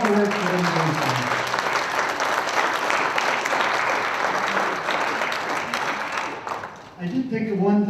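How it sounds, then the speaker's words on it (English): An audience gives a sustained round of applause at a meeting on Gunnison sage-grouse conservation, dense and steady for about seven seconds before tapering off as a voice begins speaking. "let's have a big round of applause for everybody, for all the work that everybody's done"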